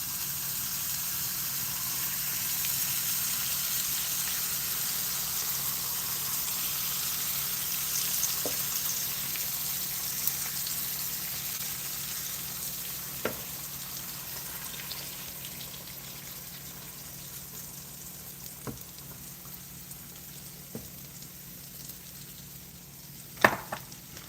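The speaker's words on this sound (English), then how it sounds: "We're going to pour the egg mixture right over the top." Egg mixture sizzling and frying steadily in a keto chaffle maker over a slice of cheese, a continuous hiss with a few faint clicks, close by and with no talking.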